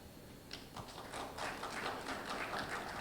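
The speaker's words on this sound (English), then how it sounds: "You should have claps for that." Scattered claps from an audience at a Bengaluru development summit, sparse at first and thickening into light, uneven clapping that stays fairly faint.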